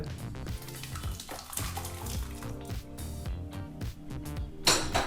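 Mashed toor dal and tomato tipped into a pot of cooking chayote, making close, wet slopping and splashing sounds with scattered clinks and scrapes against the vessel.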